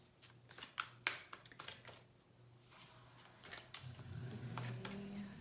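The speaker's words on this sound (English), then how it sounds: "as I shuffle these" Tarot cards are shuffled quietly with quick papery riffles and a few sharper snaps, then softer sliding, close to the listener.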